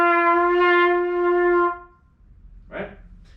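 A sustained trumpet note that wobbles unsteadily in pitch and strength for under two seconds, then stops, followed by a brief soft noise.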